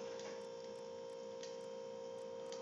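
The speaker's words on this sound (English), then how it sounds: "Sorry if you guys hear my annoyingly loud fridge in the background." Steady low electrical hum of a loud household refrigerator running in the background of a room, constant and faint, with light ticking clicks scattered over it and no talk.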